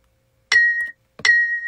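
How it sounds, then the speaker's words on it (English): Two struck bell tones from a sample auditioned during beat making, each a bright metallic strike with a clear ringing pitch that decays within a fraction of a second, the second following shortly after the first, dry and close. "Let me find some bells."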